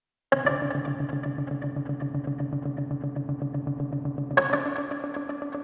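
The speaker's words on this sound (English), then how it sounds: "There's a sort of kind of like diffused, kind of almost like it's slightly submerged kind of effect" A sustained electronic chord with a diffused, slightly submerged wavering wash effect, gently pulsing, then a fresh chord is struck near the end; no voices.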